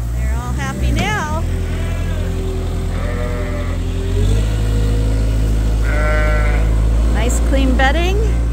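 Sheep bleat repeatedly inside a farm barn, several loud, wavering calls from different animals close by, with a steady low rumble of machinery or a vehicle running underneath.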